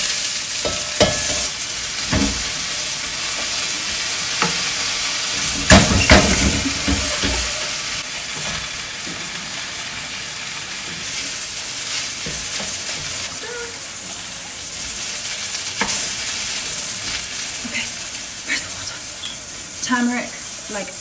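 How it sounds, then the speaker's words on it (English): Rice being stirred in a hot frying pan for mansaf, a steady close-up sizzle with scraping stir strokes running continuously for the whole stretch. "So I'm gonna be here stirring."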